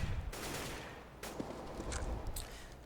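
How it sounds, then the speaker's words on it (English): Gunfire in the video game CS:GO during a tournament grand final: a few sharp, distant-sounding shots and short bursts over a constant low background rumble, fairly faint overall. "Nasby there gets the headshot onto Johnny"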